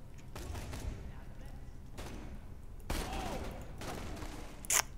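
Gunfire in Borderlands 2 cracks out in several separate bursts a second or so apart, sharp and loud over a steady game background, with the last shot snapping brightest.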